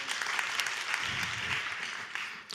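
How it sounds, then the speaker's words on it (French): Audience applause at a tourism conference in a hall, a steady dense clapping wash at moderate level that thins out toward the end. "on peut l'applaudir, s'il vous plaît"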